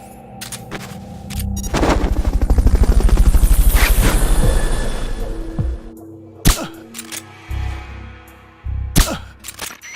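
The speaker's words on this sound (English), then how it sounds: "Fulton recovery helicopter is complete." A helicopter in the video game Metal Gear Solid: Peace Walker throbs with a loud rhythmic rotor chop that swells and fades over several seconds, followed by sharp bangs.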